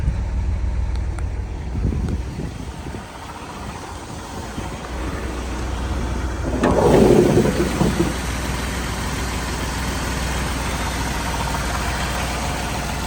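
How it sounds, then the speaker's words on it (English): A six-cylinder engine in a 1983 Chevrolet C-10 pickup idles steadily at close range, a low continuous rumble that swells briefly in the middle before settling back to an even drone. "Full 6-cylinder engine."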